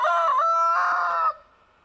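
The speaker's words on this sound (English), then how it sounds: "we free range our chickens, so they're everywhere. They're making a bunch of noise." Free-range chickens clucking with a rooster crowing, loud and close for over a second before trailing off into quiet.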